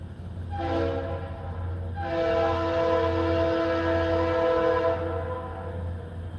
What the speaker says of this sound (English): The train has honked the horn.